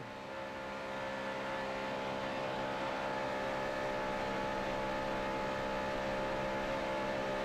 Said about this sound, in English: Let's listen to his throttle and see if he can hold it wide open.